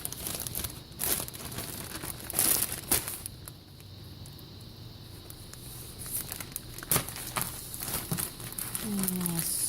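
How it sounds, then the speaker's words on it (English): A plastic ziplock bag crinkles and rustles as a chicken breast is slipped inside, with sharp crackling bursts separated by a quieter pause, close by. "we're going to go ahead and put it in a plastic ziplock bag"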